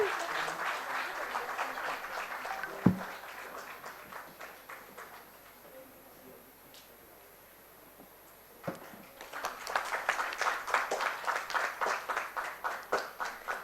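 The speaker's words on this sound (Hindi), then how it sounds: "तालियों की आवाज रुकनी नहीं चाहिए" Applause at the Iconic Women's Awards 2026 for a keynote speaker: a crowd claps, fades to a quiet lull with a sharp knock, then surges back with strong, rhythmic clapping that builds toward the end.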